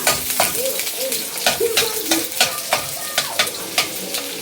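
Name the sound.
onion and garlic frying in cooking oil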